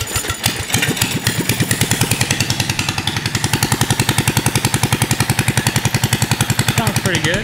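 A go-kart engine fitted with a freshly tacked exhaust header runs steadily at a slightly high idle, its rapid, even firing pulses loud and close throughout after a brief start.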